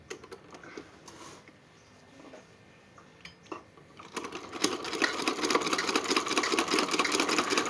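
A sewing machine runs a curved seam on a cloth face mask, starting with faint scattered clicks and handling noise, then settling into a steady, fairly loud mechanical whir for the last few seconds.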